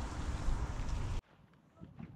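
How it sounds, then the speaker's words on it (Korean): Strong hot wind at a geothermal area in Rotorua, a loud, close roar of gusts buffeting the microphone that cuts off abruptly, leaving a quieter outdoor background with faint rustling. "엄청난 바람 소리. 뜨거운 바람이었습니다."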